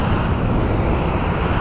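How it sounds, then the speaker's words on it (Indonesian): A Sriwijaya Air airliner arriving at an airport produces a loud, steady engine roar that fills the whole stretch without a break or any talk. "Ada pesawat lain baru datang."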